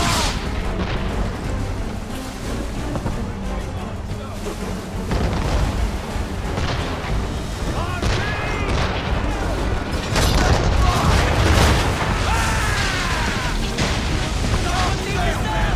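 Ship cannons fire during a naval battle in Assassin's Creed III, with heavy booms and rumbling blasts layered over a dense, noisy din, while voices speak throughout.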